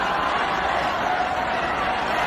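Audience applauding, a steady dense wash of clapping that holds at an even level throughout, with no distinct individual claps standing out.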